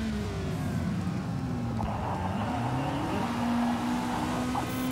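A race car in a racing video game driving a lap around a track, its engine droning steadily with gear-shift pitch changes and a smooth, continuous note throughout, loud and close.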